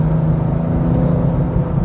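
A car running an E22 ethanol tune with 30 psi boost pulls hard on the highway, its engine a steady low droning rumble under road noise, with no voices.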